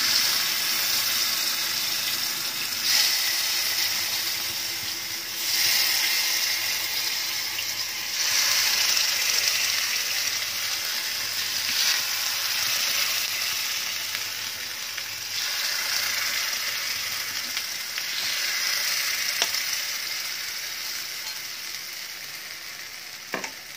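Appe batter with a little oil in each cup of an appe pan, cooking over low gas: steady soft sizzling and crackling, continuous and moderately close, with faint clinks and no talk.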